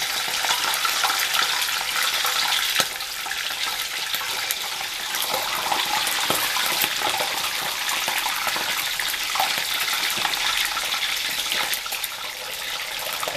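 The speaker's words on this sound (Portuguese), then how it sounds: "nós vamos começar a posicionar o nosso toicinho na gordura quente" Pork fatback dropped into hot fat for Brazilian torresmo, a loud, dense, steady crackling sizzle that fills the whole stretch with scattered sharper pops, close up and without any voices.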